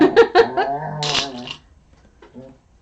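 A dog makes a few short, throaty growling yips close by, followed by a quieter grumble after a pause.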